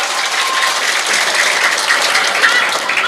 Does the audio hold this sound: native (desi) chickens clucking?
no